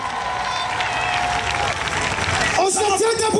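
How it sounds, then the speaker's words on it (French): A church congregation cheers and applauds amid loud babble and shouting voices, with a sustained sung or called tone early on and voices rising sharply near the end. "Acclame plus fort."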